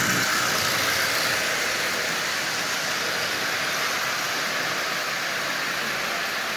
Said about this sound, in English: this little locomotive is running just absolutely perfectly, even pulling 10 full-size Lionel cars